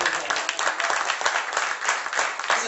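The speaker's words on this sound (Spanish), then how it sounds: "Y le damos aplausos a este lugar." Church congregation applauding together, a dense burst of clapping that stays steady and fairly loud for a few seconds, with a few voices mixed in.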